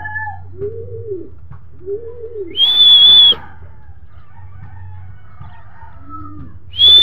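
Racing pigeons returning to their home loft, with soft bird coos and calls across the clip and a brief sharp whistle-like tone twice, over steady low background hum; no speech.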